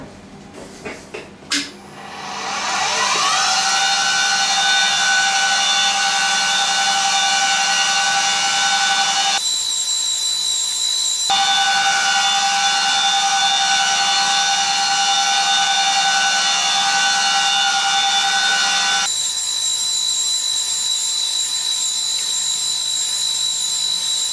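Machine cutting graduations with a cutter, starting with a few knocks and then a loud steady high-pitched whine that cuts off briefly twice before resuming, close and continuous with no talk.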